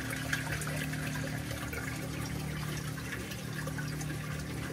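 A Reef Octopus Regal 200 internal protein skimmer runs in an aquarium sump, its pump giving a steady, even wash of bubbling, trickling water that holds level throughout with no voices.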